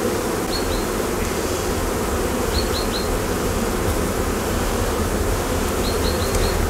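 Honeybees swarm around an open hive on a warm day while propolis is cut away, making a dense, loud, unbroken buzz with a few faint high chirps sounding over it.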